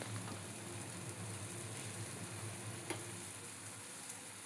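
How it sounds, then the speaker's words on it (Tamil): Chopped tomatoes sautéing in a pan for wheat rava upma, a soft, continuous sizzle, fairly faint and even, with one small clink partway through. "சாப் பண்ணி வச்சுருக்க டொமேட்டோவையும் சேர்த்துக்கலாம். இப்போ சேர்த்து நல்லா வதக்கிக்கலாம்."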